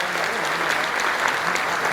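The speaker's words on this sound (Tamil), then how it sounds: "ஒரு பலத்த கைத்தட்டல் எல்லாரும்" Audience at a public event in Erode breaks into loud, sustained applause, dense steady clapping throughout with no talk over it.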